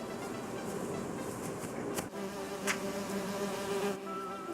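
Bees swarm and buzz steadily around a beehive in the point-and-click adventure game Teenagent, a continuous droning hum with a few brighter clicks and tones layered in.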